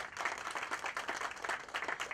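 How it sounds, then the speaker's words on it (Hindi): Enthusiastic audience applause at the launch of the Bombay Talkies music company, with dense, steady clapping and no clear talk over it. "मैं चाहूंगा जोरदार तालियां बजाएं।"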